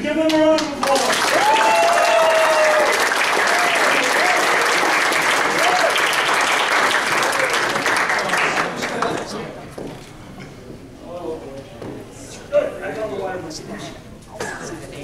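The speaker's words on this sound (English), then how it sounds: "give them a round of applause" Loud applause from a convention audience at a furry gathering fills the room for several seconds, then fades into scattered claps, murmuring and talk.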